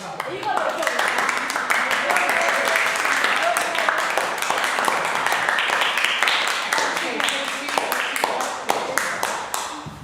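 A live audience at a devotional kirtan gathering claps in quick, regular pairs, a steady rhythmic patter of many hands under ongoing voices.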